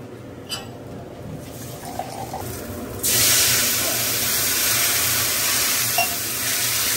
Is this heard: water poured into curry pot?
yes